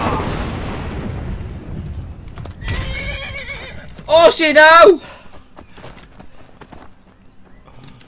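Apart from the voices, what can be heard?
horses neighing and hooves clopping in Skyrim video game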